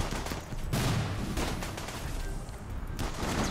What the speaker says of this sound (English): there's a legion of guys shooting over here